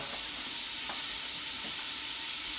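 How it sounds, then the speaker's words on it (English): Onions sauté in two tablespoons of oil in a hot pan, a loud, even hissing sizzle with a few faint stirring taps, heard up close without any voices. "Got a nice hot pan, 2 tablespoons of oil there. We've got our onions there."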